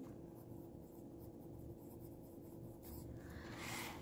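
Pen or pencil writing words on a children's English worksheet, soft continuous scratching and rubbing on paper, close and quiet, with a brief rustle near the end.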